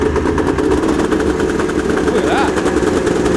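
The Scuz-Z's engine fires up and runs loud and close, with a rapid, steady rough chatter under a brief spoken remark.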